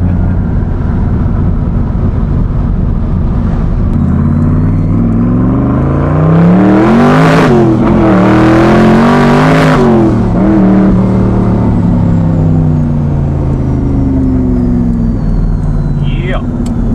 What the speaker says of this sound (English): Hear some turbos cracking.